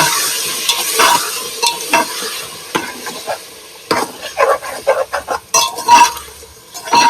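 A curry base of garlic paste and salt frying in a pan while a spoon stirs it, with loud repeated scraping strokes in an uneven rhythm over a bright sizzle, close up and with no talking.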